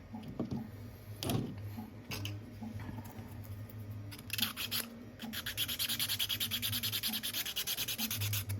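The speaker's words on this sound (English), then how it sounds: "Just scraping this because these two are going to be making some contacts" Plastic helmet parts for an X-01 Fallout model being scraped before gluing with Gloop, close rasping strokes that start sparse and settle into a steady, rapid rhythmic scraping toward the end.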